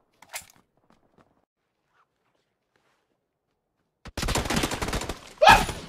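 Gunfire in the video game PUBG: after near silence, a sudden dense burst of rapid shots rings out loud and close for under two seconds, ending in one sharp final crack.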